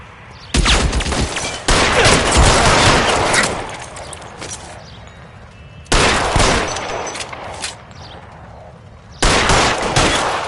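A loud shootout in L.A. Noire: sustained volleys of close gunfire come in three heavy bursts separated by brief lulls, with echoing shots and a brief shouted voice amid the firing.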